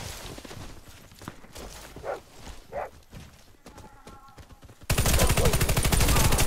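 Scattered thuds and clatter, then a sudden loud burst of rapid automatic gunfire in a video game shooter, a dense, relentless rattle that continues to the end.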